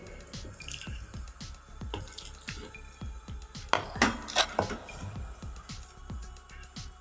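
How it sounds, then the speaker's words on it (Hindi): Rhythmic pounding of a shami kebab mixture on a stone grinding slab, a steady series of dull close thumps with a few sharper knocks, no voices. "सलवट्टे पे इसको अच्छे से कूट लेंगे।"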